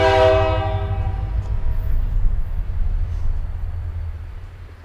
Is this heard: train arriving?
yes